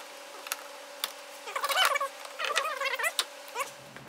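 A bit driver ratchet clicks in sharp isolated ticks, then in quick rapid bursts, while wiper linkage parts are removed from a 2001 Ford Escape. The ratcheting is close and fairly quiet over a faint steady hum.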